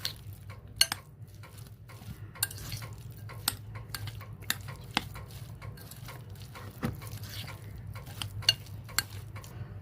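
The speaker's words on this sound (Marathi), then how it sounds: "आपण आता हे सगळं मिश्रण मिक्स करून घेऊ चमच्याच्या साह्याने" A spoon works through a cheese, corn and peas kachori filling in a bowl, giving repeated light metallic clinks and scrapes in an irregular rhythm over a quiet background, with no speech.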